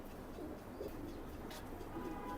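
Imported teddy pigeons coo softly and intermittently against a steady background noise.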